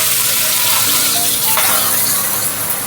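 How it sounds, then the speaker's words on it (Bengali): Morola fish frying in hot oil: a loud, continuous close sizzle and crackle with steady hissing spatter throughout, heard alone without talk. "তেলটা গরম হয়ে গেছে, মাছগুলো দিয়ে ভেজে নিই।"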